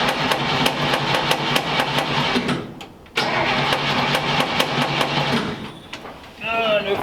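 1934 Ford Tudor hot rod engine cranking without fuel, a rapid loud rhythmic starter chug in two long bursts with a short pause, then a voice at the end.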